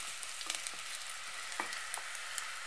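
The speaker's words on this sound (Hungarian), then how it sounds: "Egy fej vörös hagyma és 2 gereszt fokhagymát itt meg fogok szépen így pirítani." Red onion and garlic fry in a pan with a steady, close sizzle and occasional faint pops and taps, with no voices.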